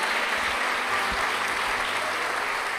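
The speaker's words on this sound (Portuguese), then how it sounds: "E vamos aplaudir Jesus pela alegria que Ele nos oferece." A church congregation at a Sunday communion service claps together in a continuous, even wash of applause, with no speech over it and the sound staying level for the whole stretch.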